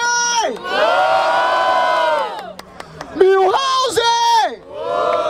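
A crowd at a Brazilian rap battle, the Batalha da Aldeia in Barueri, SP, roars and cheers loudly for a rapper's rhymes, with sustained shouting that surges again in bursts near the end.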